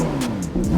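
A Porsche 992 GT3 on its stock exhaust revs briefly, a close, steady engine tone that dips and then rises again within under a second.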